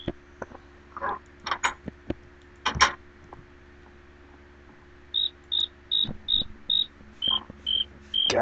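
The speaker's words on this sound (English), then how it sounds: "God, I can't stand crickets." Crickets in Minecraft with the More Creatures mod at night, a rapid series of short, bright, evenly spaced chirps repeating alone in the latter half, after a few scattered clicks and game sounds.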